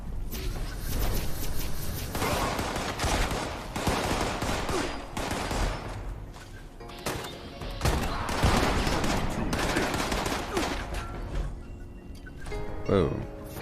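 Gunfire in the video game Fallout 76, dense rapid volleys of shots in long sustained bursts with brief lulls, loud and close, with speech at times under the shooting.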